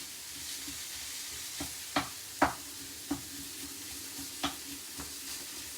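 Lean minced beef frying in a pan without oil, a soft continuous sizzle close up, broken by several sharp scraping stirs.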